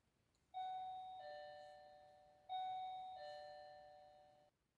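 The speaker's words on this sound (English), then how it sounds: "Sorry if you got the doorbell then" Two clear ding-dong doorbell chimes, each a pair of ringing tones that slowly fade, heard alone in a quiet room.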